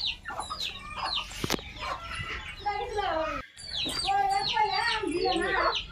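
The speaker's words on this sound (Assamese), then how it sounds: "ইমান লোকেল মুৰ্গী দেখিছেনে?" Local village chickens clucking nearby in a flood-hit rural yard, a busy run of overlapping clucks and squawks with a sharp burst partway through, and people talking at times among them.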